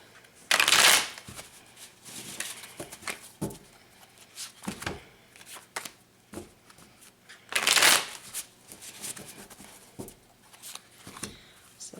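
Rider-Waite tarot cards shuffled by hand during a reading, quick riffling flutters in bursts with two especially loud shuffles and softer taps and slides of the deck between them.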